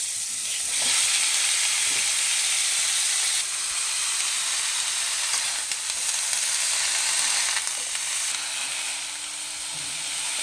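Cauliflower florets fry in a pan with a loud, continuous crackling sizzle and hiss, heard up close with faint stirring clinks.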